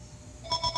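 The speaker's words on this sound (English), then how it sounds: "Oh, and the phone rings." A telephone rings in short electronic pulses that start abruptly and repeat rapidly, faint against a quiet background in a workshop.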